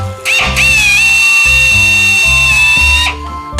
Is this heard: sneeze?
no